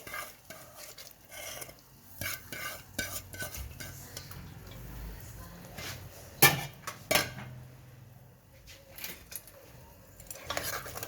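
Dal for a daal mash recipe is tipped into a pressure cooker pot and stirred, with scraping spoon strokes, metallic clinks and a few sharper knocks against the pot, close and moderately loud.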